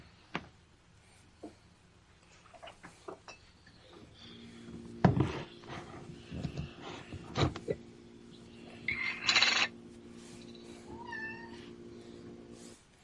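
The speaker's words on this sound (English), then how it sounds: "I heard that. What, the kitty cat?" A cat meows several times, some drawn out into caterwauling cries, close by among scattered knocks and handling noises in a quiet room.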